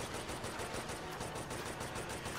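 Rapid automatic gunfire from the shooter video game Resident Evil Operation Raccoon City, dense and continuous with no pauses across the whole stretch, loud and steady without any talking.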